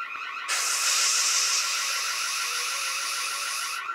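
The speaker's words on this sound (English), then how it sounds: "Which one shuts off the alarm?" A harsh, continuous electronic alarm blares at steady volume for about three seconds, starting and stopping abruptly, loud and close with no talking over it.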